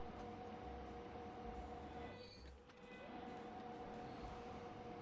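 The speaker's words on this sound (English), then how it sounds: "And here comes the third wood delivery train." Wood delivery freight train in the Transport Fever 2 game passing by, a steady rolling rumble with a faint tonal hum, dipping briefly midway before resuming; no talking.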